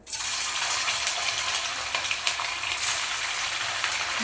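Instant medu vada batter frying in hot oil, an even crackling sizzle with small bubbling pops close by, steady and without talk.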